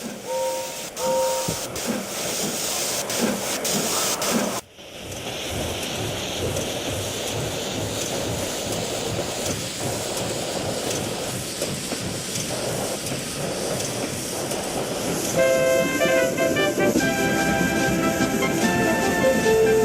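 Steady steam hiss with rhythmic chuffing from a steam locomotive, continuous and fairly loud, with a brief dropout and whistle-like tones near the end.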